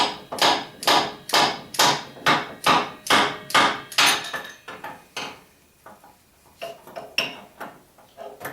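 The spindle of a Jet 1642 lathe is gently tapped out with slide-hammer strokes, giving a steady run of about a dozen close metallic knocks that slow into sparser, softer taps.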